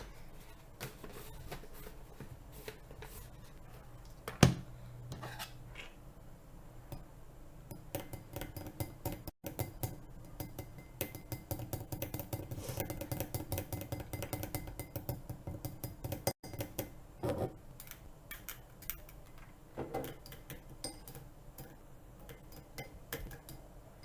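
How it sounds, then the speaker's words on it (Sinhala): A spoon stirs tea leaves in a glass of water, producing soft scattered ticks and light clinks of metal against glass, quiet and irregular, with a brief louder knock early on. "හරි දැන් කලවම් කරනවා"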